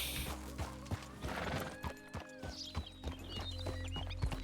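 A horse in Red Dead Redemption 2 whinnies with rising and falling tones while its hooves clip-clop in a steady walking rhythm, close and fairly loud over a low rumbling game background.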